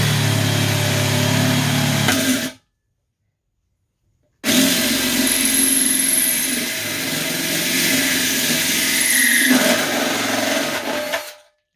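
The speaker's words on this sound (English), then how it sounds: "So let's go ahead and drill that hole out." A power drill bores a 7/16 hole through a mini keg, two loud sustained bursts of grinding whine separated by a couple of seconds of silence, with no talking.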